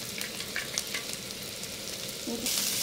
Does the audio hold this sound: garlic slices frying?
yes